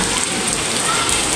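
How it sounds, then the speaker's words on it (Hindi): Very heavy rain pours down outdoors in a storm, a loud, dense, unbroken hiss of drops hitting surfaces, steady throughout with no voices. "इतनी शदीद बारिश है ना,"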